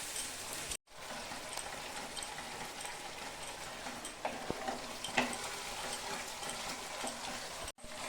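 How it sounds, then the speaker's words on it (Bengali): Onion frying in a pan for chicken rezala, a steady, fairly quiet crackling sizzle throughout with a few faint stirring clicks and brief cut-outs. "আমি পেঁয়াজটা 2-3 মিনিট ভালো করে একটু ভেজে নিব"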